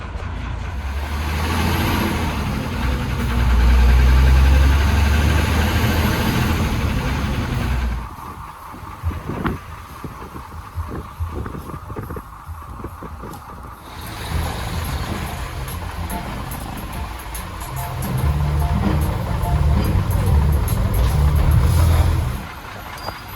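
A bus engine drones loud and steady during a ride to Cebu City, with a quieter stretch in the middle before the heavy rumble returns.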